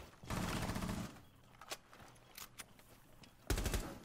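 Rainbow Six Siege gunfire: a loud sustained burst of automatic fire, then scattered single shots and faint clicks, closing with another sharp close-range burst.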